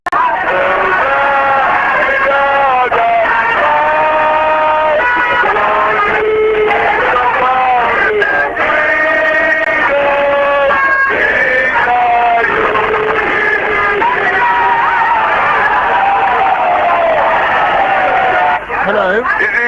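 A large crowd sings the national anthem loudly together, sustained tonal voices filling the space continuously, with shouting and babble mixed in.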